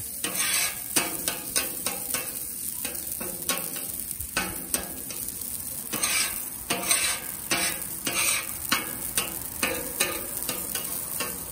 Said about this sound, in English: I'm just going to use my Blackstone scraper to kind of mix it all up here.